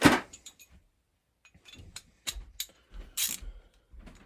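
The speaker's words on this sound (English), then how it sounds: "Yay, big ratchets." A big ratchet with an extension works on engine head bolts during a teardown, making quiet, sparse clicks and metallic clacks in short separate bursts with silent gaps.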